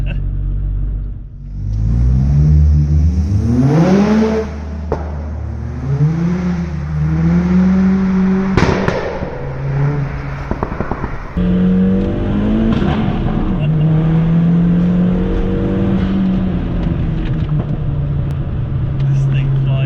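A 300 BHP stage 3 Polo GTI accelerates hard through several gears, its engine note rising and dropping repeatedly with loud in-cabin drone and a brief tire chirp, while people talk over it.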